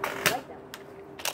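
A Nerf Tri-Fire toy blaster with a rotating barrel lets off about three quick dry snaps and puffs over roughly a second, close by, with a voice faintly underneath.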